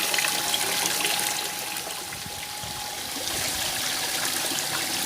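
Water flows from a pump chamber into a koi pond fitted with a skimmer, a steady splashing trickle and rush like a small waterfall, continuous and fairly close, with no voices.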